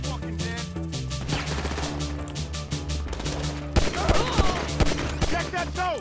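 A GTA V street shootout with repeated gunshots cracking amid game music and ambient noise, shots growing sharper and more frequent toward the end, with voices talking underneath.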